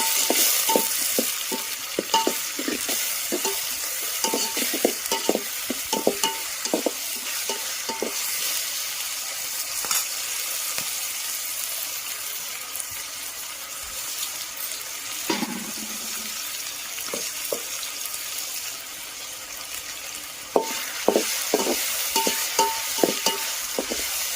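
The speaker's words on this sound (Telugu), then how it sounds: "అల్లం వెల్లుల్లి పేస్ట్ పచ్చివాసన పోయేదాకా నూనెలో వేయించుకోండి" Ginger garlic paste fries in hot oil for a village-style chicken curry, giving a steady sizzle punctuated by frequent scraping stirs of a spoon against the pan, with no talking.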